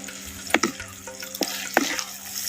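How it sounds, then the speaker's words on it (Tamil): Masala sizzling in hot oil for a shallot kara kuzhambu, with a few sharp stirring scrapes of the spoon against the pan over a steady low frying hiss. "சேர்த்த மசாலாவை அப்படியே எண்ணெயில் பச்சை வடை போகிற அளவுக்கு நல்லா வதைக்கிறோம்"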